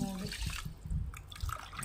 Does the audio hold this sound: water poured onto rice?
yes